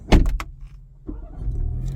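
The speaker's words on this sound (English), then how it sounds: "Start the engine." A 2025 BMW 3 Series is heard from inside: a few sharp clicks and a soft thump, then the engine starts and settles into a low, steady hum.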